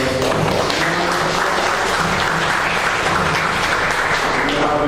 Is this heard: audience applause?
yes